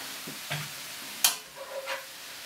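Meat browning in a pan as it is pushed around, a soft sizzle under a few quiet spatula scrapes and one sharper click, close and fairly faint.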